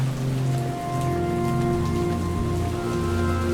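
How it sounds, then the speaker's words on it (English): Steady rain falls on pavement and a road in a continuous, close, even hiss with no let-up, while faint tonal sounds hum underneath. "I do like the rain."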